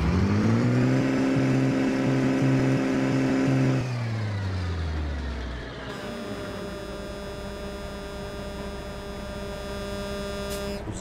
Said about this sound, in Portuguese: Vou dar uma acelerada aqui, galera, pertinho do escape,